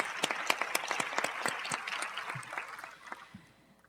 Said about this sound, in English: let's give the group a round of applause for having done the study.